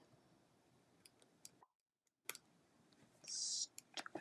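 A handful of sharp, quiet computer mouse clicks sound close by, scattered irregularly around a brief silent gap, with faint murmuring and a short hiss in the background.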